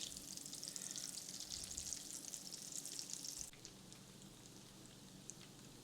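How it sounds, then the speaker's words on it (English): Potato balls (relleno de papa) frying in hot oil give a soft, continuous fizzing sizzle that is quiet throughout and drops a little lower partway through. "we want to fry these and just to where they're a golden color"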